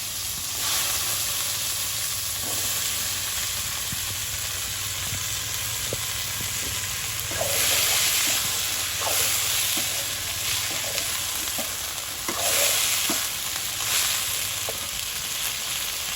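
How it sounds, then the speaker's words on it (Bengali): Yardlong beans frying in hot oil in a village kitchen, a steady dense sizzle with brief stirring clatters and rising bursts of hiss throughout, close and fairly loud, no voices. "তেল হয়ে গেছে গরম, তো নলির লগে দিয়ে দিচ্ছি বরবটিগুলো"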